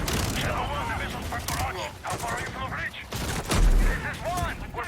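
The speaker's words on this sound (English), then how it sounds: "The sound of that shotgun is awesome. Just like boom." Rapid gunfire and heavy weapon blasts from a shooter video game battle, including shotgun fire, a dense loud barrage with mechanical clatter, layered under someone talking.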